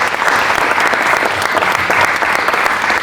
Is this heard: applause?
yes